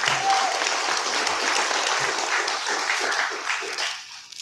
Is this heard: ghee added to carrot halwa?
no